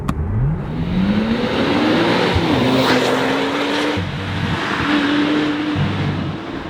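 A 2014 Porsche 911 Turbo S Cabriolet's turbocharged 3.8-liter flat-six revs hard and loud, its pitch climbing, dipping and climbing again in sustained high-rpm wails with no talking.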